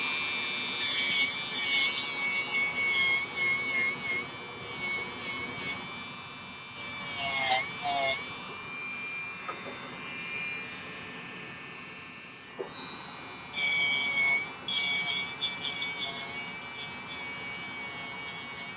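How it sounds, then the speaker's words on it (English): A white silicone abrasive wheel on a rotary tool whines against a silver ring in a silversmithing workshop, in steady close passes broken by short pauses, with a sharp high tone throughout. "this is a white silicone abrasive wheel here"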